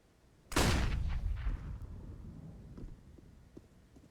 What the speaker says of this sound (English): Exchange of nades, Molotovs, and HEs back and forth we go